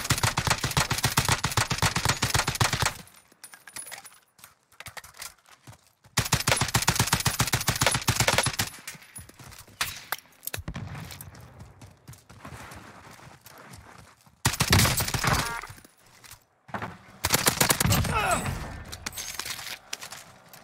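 Rapid automatic gunfire rattles through a Warzone Pacific gunfight on the Caldera map, a FAL rifle in use, coming in several loud, dense bursts separated by short quiet gaps, with clattering footsteps and shots close up.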